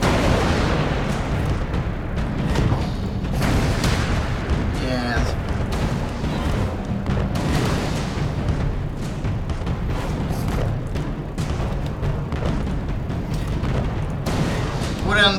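Explosions and gunfire rumble continuously through a fight in Alice: Madness Returns, a dense, loud wash of booms and shots running the whole time.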